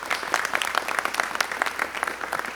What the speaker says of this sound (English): another round of applause for Mayor Duggan as well